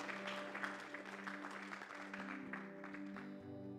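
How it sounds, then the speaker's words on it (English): A church congregation claps hands in praise, a moderate, steady round of applause beneath a sustained organ-like musical tone. "Let's give God a hand clap of praise today."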